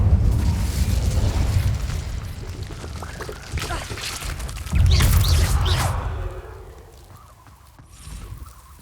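A fiery whoosh and roaring burst from the Incendio spell in Hogwarts Legacy, loud and crackling, swelling again in a second blast before tapering into a quieter rumbling tail.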